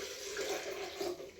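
Water running steadily from a tap or being poured, a short even splashing rush of about 500 ml, close and moderately quiet.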